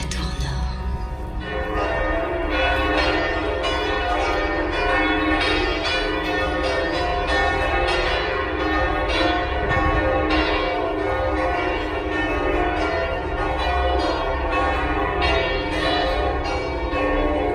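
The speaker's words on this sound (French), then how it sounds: "Nous irons ensemble et nous prierons pour la paix, à l'appel des cloches de la tour nord." Church bells ring continuously from the north tower of Notre-Dame cathedral in Paris, a dense, loud, overlapping peal of several bells sustained throughout without voices.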